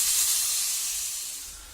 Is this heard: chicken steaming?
yes